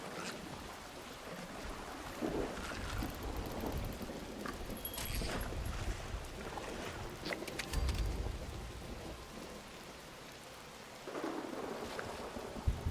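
Rain falls steadily in the Fallout 76 video game, a continuous hiss of drops on surfaces. A few faint heavier thuds and rumbles surface now and then, with no voices.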